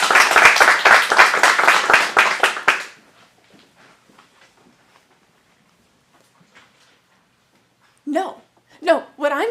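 Dense audience applause fills the first few seconds, then fades to near silence before a few scattered sounds return at the end.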